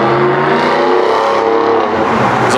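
A loud Ford car with a swapped engine and transmission drives close by at a road rally in Colorado, its engine droning steadily for a few seconds before fading slightly.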